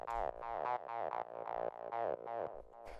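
Raw, undistorted acid techno 303-style synth bassline straight from the synth, a steady run of squelchy monophonic notes with sweeping filter and sliding pitch, loud and alone with no voices.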